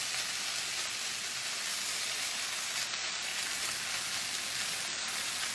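Chicken fried rice stir-fries in a pan over high heat, giving a steady, even sizzle and hiss that holds without pause for the whole stretch, close and moderately loud with no voices.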